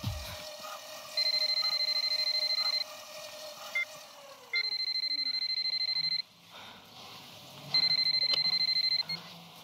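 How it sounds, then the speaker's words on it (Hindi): A telephone ringing in three long electronic trills separated by short pauses, clear and steady over a quiet room. "तुम्हारा फोन है"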